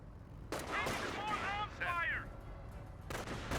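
Quad machine gun firing in a Company of Heroes battle, rapid bursts of gunfire through the middle of the clip with a final burst near the end, set among other game sounds.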